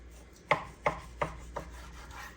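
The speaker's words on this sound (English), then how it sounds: "we'll take this one and cut it in half this way" A knife strikes down through a beef chuck roast on a cutting surface with four distinct, evenly spaced chopping thuds, close and clear over a quiet background.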